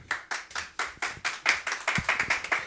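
A small comedy-night audience in a D.C. tavern claps for an incoming comedian, a brief burst of distinct, fairly close hand claps that builds into quicker, overlapping applause.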